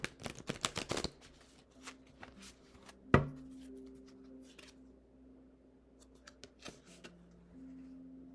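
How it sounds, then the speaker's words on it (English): A deck of oracle cards being shuffled by hand: a quick run of crisp riffling snaps at the start, one sharp slap, then scattered soft card taps and rustles, close and fairly quiet. "Let me just shuffle these and pull an oracle card for you guys."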